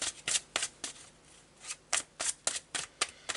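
Marseille tarot cards being shuffled by hand, a dozen crisp riffling bursts in an uneven rhythm, close and clear with no talking.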